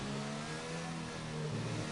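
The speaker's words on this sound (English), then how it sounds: "Revving the crap out of that engine." Race car engine in a racing video game on a Russian circuit, revving hard and steadily at high pitch through the gears, loud and close with no talk over it.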